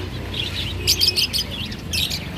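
Small sparrow-like birds chirp close by in a pet shop, bursts of quick high tweets coming in clusters over a low background hum.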